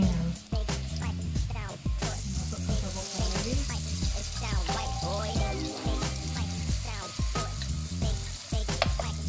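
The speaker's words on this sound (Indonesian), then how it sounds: "Kita goreng bawang putih ini sampai ya naik kuning." Garlic sizzles and crackles in hot oil in a pan, a loud continuous frying hiss with occasional stirring scrapes throughout.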